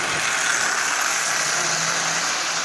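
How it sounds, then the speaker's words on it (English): A Marx 400 toy train locomotive with a single reduction motor rebuilt from junk parts runs on the rail, giving a steady high-pitched electric whir that holds close and even throughout. "turn it into a running locomotive with just a few minutes work"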